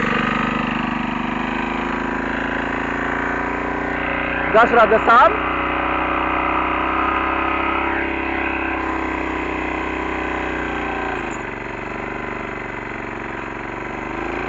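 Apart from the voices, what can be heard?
single-axle walking tractor engine running, 6.5 horsepower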